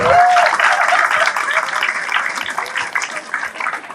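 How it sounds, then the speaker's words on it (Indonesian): An audience claps at a lecture on humans and the Qur'an, a dense burst of applause that starts loud and slowly thins out over a few seconds. "Tepuk tangan boleh?"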